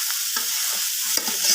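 Vegetable curry with spices is stirred and sautéed in a pan, giving a loud, continuous sizzle with a few scraping stirs, close and without talk.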